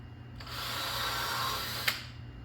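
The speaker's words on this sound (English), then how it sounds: "Just going to drill a couple pilot holes." A power drill whirs steadily for about a second and a half, close by, drilling a pilot hole in a wooden board, ending with a sharp click as it stops.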